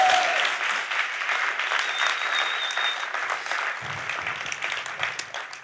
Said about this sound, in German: Das ist dein Applaus, Fabienne